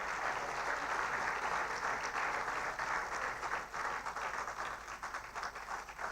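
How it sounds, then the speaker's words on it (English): Sustained audience applause fills a conference hall as a president enters the opening ceremony of a bank group's annual general meetings, steady dense clapping throughout with no one speaking. "You're welcome to give him a warm hand clap as he's coming in."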